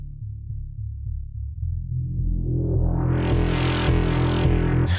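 A Worng Acronym synthesizer gives a growling, raucous tone, its second sub-oscillator patched into phase modulation, with a low pulsing drone that swells into a bright, buzzing roar. The sound is continuous, loud and close, with no talking.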